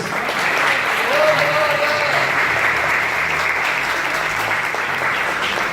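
A church congregation applauding and acclaiming God during a sermon on prayer in the name of Jesus Christ, a steady, fairly loud wash of clapping with a voice calling out briefly within it.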